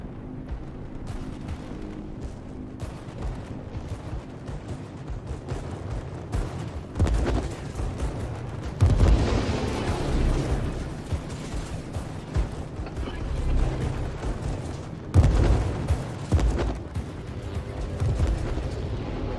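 Gunfire and explosions in a naval battle game aboard the USS Lexington, with a steady rumbling barrage and heavier booming bursts recurring throughout, some loud blasts standing out near the middle and later.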